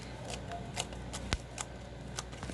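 Homemade pink slime being squished and pressed gives off a scatter of small, crisp clicks and pops at an uneven pace, faint and close over a steady background hiss.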